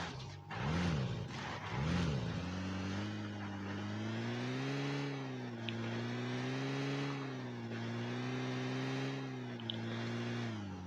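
A car in the PUBG Mobile video game drives steadily with a constant droning engine that revs up twice at the start and then settles into an even hum, loud and close.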